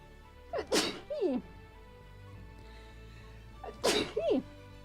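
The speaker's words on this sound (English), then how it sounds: "Now I will sneeze." Two loud sneezes spaced a few seconds apart, each a sharp intake followed by an explosive burst, close to the listener.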